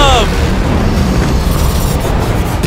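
Carpet bombing in Minecraft hits as a loud, continuous rumble of overlapping explosions that fill the whole moment. A short voice-like sweep sounds at the start.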